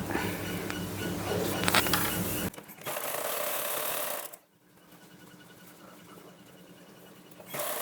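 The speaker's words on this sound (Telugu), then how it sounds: "ఇక్కడ వరకు కుట్ట అయితే వేసేసుకుందాం" A sewing machine stitches a blouse in quick rattling bursts, a loud mechanical run followed by a pause and a quieter, lighter stretch of running before it picks up again.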